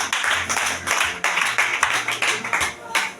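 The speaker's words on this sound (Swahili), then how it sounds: "Pigie Yesu makofi." A church congregation claps hands in praise during a prayer service, a series of rhythmic, fairly loud bursts over a low steady hum, with a voice in the background.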